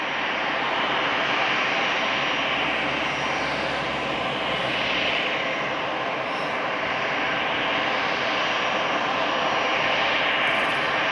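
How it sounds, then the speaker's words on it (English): An Edelweiss Airbus A320 taking off at Madeira Airport, a loud, steady roar of jet engines at full power held throughout, broad and continuous with no break. "Edelweiss, Airbus A320, go back to Zurich. It is ready. Ready to runway"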